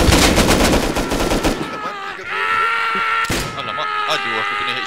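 Rapid bolt-action rifle shots in Rust crack out in a dense, loud burst at the start, then give way to a lingering metallic hum and one more sharp report midway.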